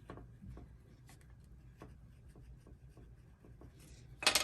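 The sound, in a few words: pencil marking on tape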